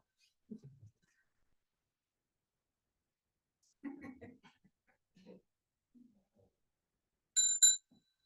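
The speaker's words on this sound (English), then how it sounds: "he'll ring the bell again and we'll bow to the main shrine." In a quiet shrine room, a single small bell rings once near the end, bright and ringing briefly, after stretches of near silence broken by a few soft murmurs and shuffling sounds.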